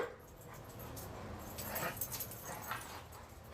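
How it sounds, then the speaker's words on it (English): Dogs whimper and yip faintly in the background, soft intermittent whines over a noisy indoor hiss. "Don't mind the dogs as they do their thing."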